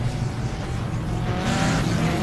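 Car engine revving and roaring steadily during a movie car chase scene in dusty canyon country, loud and continuous, swelling toward the end with a possible tire squeal.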